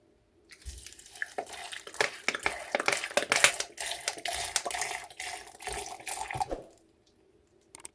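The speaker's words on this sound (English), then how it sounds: "finally I'm going to add some water and cover and blend for 30 to 40 seconds" Water poured into a blender jar over smoothie ingredients, a continuous splashing and trickling pour lasting several seconds before stopping, close and alone.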